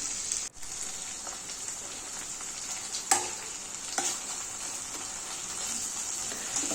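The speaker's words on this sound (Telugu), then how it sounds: "అల్లం వెల్లుల్లికి పచ్చి వాసన పోయే వరకు అల్లం వెల్లుల్లి పేస్ట్ని ఫ్రై చేసుకోవాలి" Ginger garlic paste frying in a pan hisses steadily like light rain, close and moderately loud, broken by a few sharp spatula scrapes and taps spread through, with no speaking.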